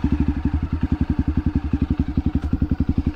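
A Honda CRF 250F dirt bike engine thumps in a fast, even single-cylinder pulse while being ridden, each firing stroke distinct and close. The sound is loud and steady throughout.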